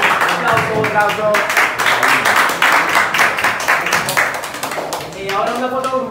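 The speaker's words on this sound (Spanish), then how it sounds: "Un aplauso." Applause from the crowd at a boxing weigh-in, dense clapping sustained for several seconds, with voices talking over it throughout.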